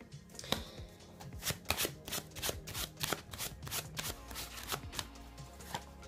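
Tarot and oracle cards are shuffled in a steady run of crisp, rapid riffles and flicks, close and fairly loud, repeating throughout with no voices over it.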